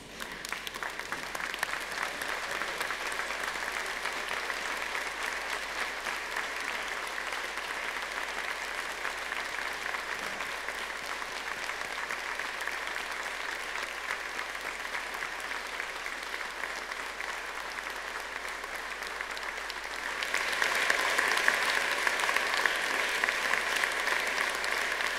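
Sustained standing applause from graduates, colleagues and guests at a university graduation ceremony for the School of Arts and Cultures and School of Architecture, Planning and Landscape, a steady wash of many hands clapping that swells louder near the end.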